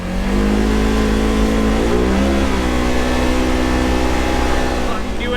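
A Polaris General UTV engine runs loud and close and revs slightly as the vehicle pulls away, with a steady low drone throughout.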